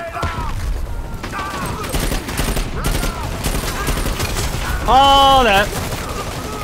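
Gunfire in the online shooter Dirty Bomb, Bridge map: rapid crackling shots and bursts run throughout under loud, agitated talk, with a brief harmonic ability or effect tone near the end.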